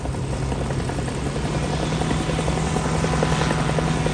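A Magni Orion 24 gyroplane flies slowly overhead at a light aviation showcase, its rotor and engine giving a loud, steady buzzing drone throughout.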